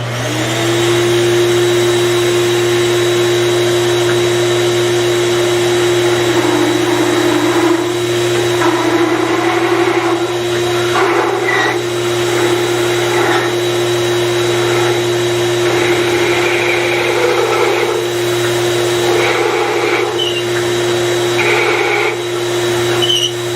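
A bowling ball drill bores a deep hole into a Radical bowling ball, a loud, steady whining motor tone that holds for over twenty seconds with slight shifts in pitch as the bit cuts.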